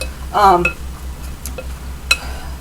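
An apple salad with tomato is tossed in a bowl, giving a few light clinks and scrapes of utensils against the dish up close, with a brief voice and a low steady hum behind it.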